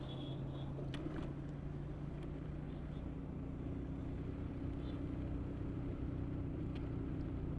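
A motorbike engine labours uphill in fourth gear on a hill road, a steady low rumble that holds throughout with no talk.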